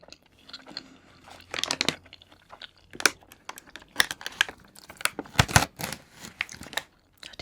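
A Sanrio candy with a crunchy, marshmallow-like texture is bitten and chewed close to the mic, giving sharp irregular crunches interspersed with softer wet chewing, with no speech.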